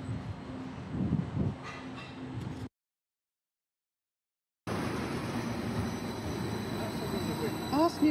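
A train rumbles past nearby on the Norfolk coast with a steady rolling roar and faint high squeals from the wheels, broken by a short gap of silence.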